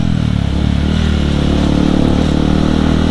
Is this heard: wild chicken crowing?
no